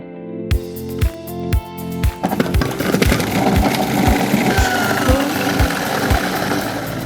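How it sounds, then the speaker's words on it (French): Professional food processor grinding blanched orange halves: a loud motor whir with steady rhythmic knocking, starting with sparse thumps before the chopping fills in densely, with no voices. "on va les broyer au robot-coupe"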